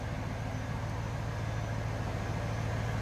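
A 1996 Chevrolet Impala SS with its stock LT1 V8 idles smoothly, a steady, even low rumble heard up close with no changes in pitch and no talking over it.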